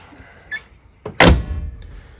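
A door on a 1960 Cadillac Series 62 swings shut with one solid, heavy thunk close by, following a faint click or two of the latch.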